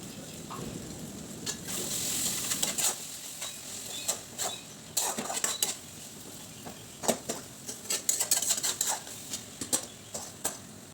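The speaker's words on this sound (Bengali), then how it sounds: "টমেটো থেকে যেটুকু জল বেরোবে সেটার সঙ্গে মশলাটা কষতে দেব।" Masala fries with tomato paste in a pan for mutton biryani, a quiet sizzle under bursts of scraping stirs and clinks of a spoon on the pan, close by with no voices.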